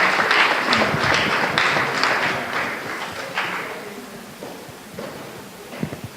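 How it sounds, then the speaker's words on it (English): Conference audience applauding a speaker, a dense wash of clapping that starts loud and gradually thins and fades, with a few scattered claps near the end. "let's give another round of applause for Matt"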